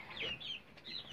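A Pavlovsk breed hen sitting on a nest of eggs gives a few soft, low clucks, faint and close by, in short bursts with brief pauses between them.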